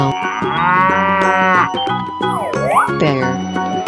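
A cartoon cow in a 3D animal sliding game lets out a loud drawn-out moo, followed by a second rising and falling moo amid jingly game effects.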